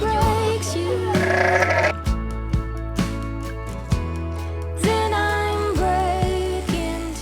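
A flock of sheep bleating during a transhumance, the seasonal drive of the herds toward Provence, with loud overlapping bleats close by and a continuous low drone beneath them.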